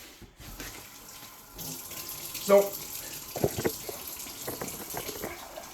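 A tap runs into a measuring cup being filled with about two liters of water for homemade insecticide, a steady close splashing stream with a few louder clinks and a brief voice at the start.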